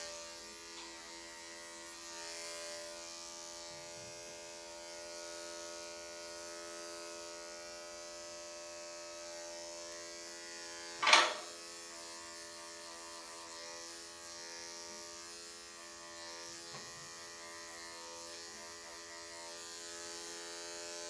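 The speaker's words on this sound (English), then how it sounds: "This is a 10 blade ceramic edge with my Andis 5 speed." Andis 5-speed electric clippers fitted with a ceramic 10 blade hum steadily while grooming a matted doodle. The tone is faint and constant, broken once by a short sharp noise.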